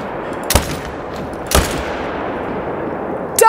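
Two sharp rifle shots from the Arzyna DLC hunting rifle in the game Call of the Wild, about a second apart, each loud with a decaying tail over quiet outdoor ambience, and a third burst at the very end.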